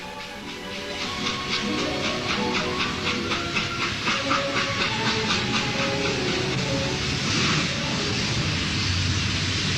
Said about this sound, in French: Tandis qu'un train vapeur pointe dans le jour naissant.